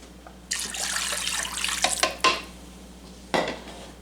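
Water pours into a slow cooker holding potato soup ingredients in a steady splashing rush for about two seconds, followed by a couple of clinks and a final short splash, close and clear with no talk.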